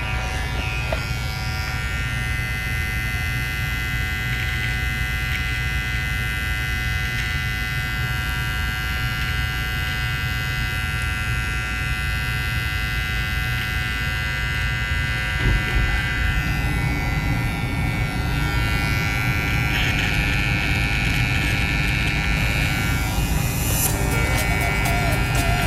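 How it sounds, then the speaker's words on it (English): A Red By Kiss electric hair clipper trimmer buzzes steadily and loudly close by, a continuous motor hum that shifts slightly in tone as it moves over hair, with no talking. "Let's try the other side with this clipper right here."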